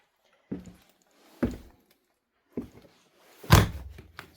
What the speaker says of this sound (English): I step on a walnut, which is that noise.